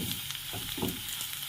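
Turmeric, coriander and chilli powders being mixed and fried in a pan, a quiet continuous sizzle with faint scraping strokes as the spices are stirred.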